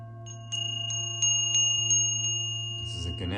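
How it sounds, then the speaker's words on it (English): A small Ganesh bell rings in a series of about seven bright, evenly spaced strikes, each leaving a short shimmer, heard close over a steady low hum before a soft rustle at the end. "Ganesh bell."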